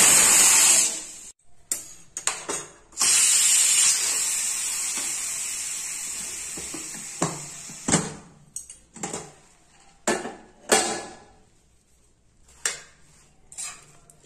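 Pressure cooker on a kitchen stove cooking a traditional Karnataka sweet lets out a sharp, loud steam whistle and hiss early on, then falls quiet apart from scattered clinks and knocks of utensils.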